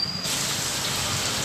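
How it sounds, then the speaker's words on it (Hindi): Rain falls in a steady, even hiss outdoors near a Hanuman temple in Assam, close and constant with no talking. "बारिश गिर रहा है"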